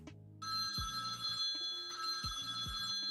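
An old-fashioned early-1900s telephone bell rings in repeated bursts, a loud metallic trill that starts abruptly and sounds close, with short gaps between rings and no talking.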